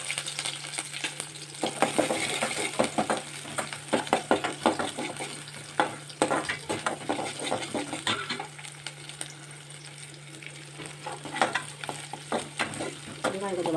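Small onions, cloves, green chillies and garlic frying in hot oil for a vegetable kurma, with a constant sizzle and repeated scraping strokes of a spoon stirring in the pan.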